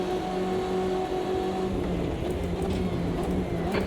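Light drizzle falls in the wet Automobilista 2 GTE multi-class race, a steady soft hiss of rain spray blended with the low continuous drone of a race car engine, unbroken throughout.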